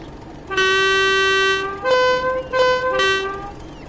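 A train departing on the Tees Valley Line in the Train Sim World 2 video game sounds a loud horn: one long steady tone, then three shorter blasts.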